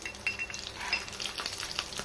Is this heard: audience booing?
no